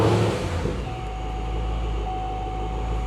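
A fifth-generation Chevrolet Camaro engine idles steadily with a low, constant rumble and a faint tonal hum riding on top, no voices present.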